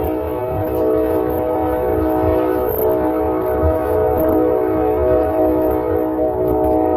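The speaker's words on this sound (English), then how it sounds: "I didn't realize the train was coming." Train passing close by near a street protest, a loud continuous rumble and rolling roar with a sustained horn-like tone throughout, no voices heard.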